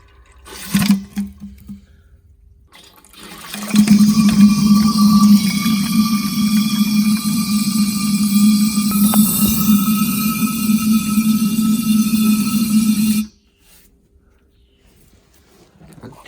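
Water drains through the opened valve of a Hydrovane compressor tank, a steady hissing, gushing rush that runs continuously for about nine seconds, close and loud, then cuts off abruptly.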